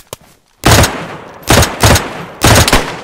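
Loud, close gunfire in the survival shooter DayZ: a shot burst followed by several more heavy reports in an uneven sequence, with quiet gaps between.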